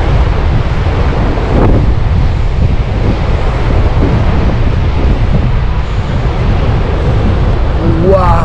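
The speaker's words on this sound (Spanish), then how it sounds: "son las olas más grandes que hay" Huge ocean waves crash steadily at Praia de Nazaré, a loud continuous roar of surf mixed with heavy wind buffeting the microphone.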